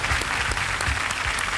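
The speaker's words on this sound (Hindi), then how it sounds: "तालियां बजती रहे।" Studio audience applause on the Hindi TV quiz show Kaun Banega Crorepati, a dense, steady wash of many hands clapping at close range, sustained without a break.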